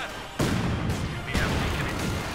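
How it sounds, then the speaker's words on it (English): Mortar rounds explode in Company of Heroes 2 during a 2v2 match. Two heavy booming impacts land in quick succession over a dense, rumbling battlefield background. "Lots of mortar rounds going in there."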